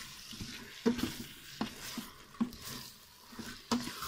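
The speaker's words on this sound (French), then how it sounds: "On mélange bien" Beef with tomato being stirred in a Cookeo multicooker pot, a spoon scraping and clacking against the pot in irregular close knocks over a soft wet sizzle, with no voices.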